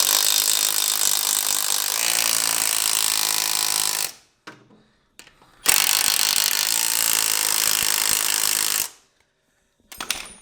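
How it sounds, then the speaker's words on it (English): An impact wrench tightening a starter motor bolt on a wingless sprint car, two loud sustained hammering bursts of about four and three seconds, close up, separated by a short pause, with a brief clatter at the end. "Rattle gun tight, that'll do."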